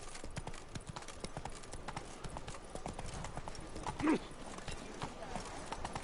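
Horse hooves clip-clopping steadily while riding through a city in The Witcher 3, a continuous rhythmic trot under faint ambient background.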